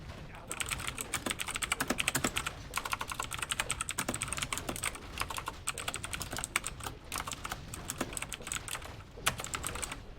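Rapid clicking of someone typing on a computer keyboard runs continuously for about ten seconds, close and fairly quiet, with irregular bursts of keystrokes and brief pauses.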